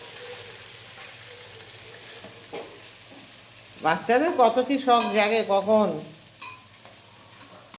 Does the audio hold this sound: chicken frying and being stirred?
yes